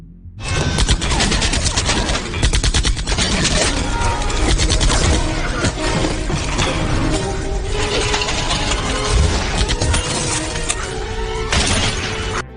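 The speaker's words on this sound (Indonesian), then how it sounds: "Andy yang tidak ingin ada saksi mata, langsung menembak John, hingga tewas di tempat." Gunfire rages through an action-film shootout involving a corrupt police officer, with dense rapid bursts and shattering crashes overlapping in a loud, unbroken barrage that lasts the whole stretch.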